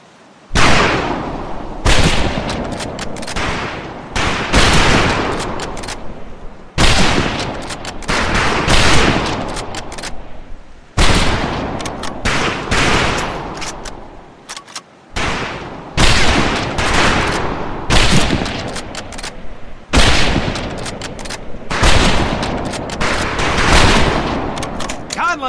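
Rifle fire crackles at a firing range in the Medal of Honor Pacific Assault video game, repeated loud bursts of overlapping shots arriving in clusters every few seconds with short gaps between volleys.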